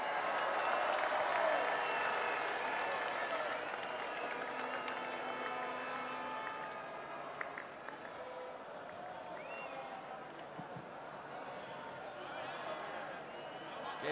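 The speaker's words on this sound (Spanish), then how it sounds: "Fuerte aplauso para Ibai Llanos" A large outdoor crowd at Cibeles in Madrid celebrating Spain's fourth Euro Cup win claps and cheers, a dense wash of applause that fades somewhat midway, with voices and stage sound mixed in.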